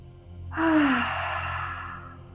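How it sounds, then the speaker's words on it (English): A single deep breath pushed out through the mouth during a morning yoga session, a close, breathy whoosh that swells quickly and trails off over about a second and a half. "take 2 deep breaths. Let's inhale through the nose. Exhale through the mouth."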